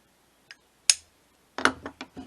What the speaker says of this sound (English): I can use my little hammer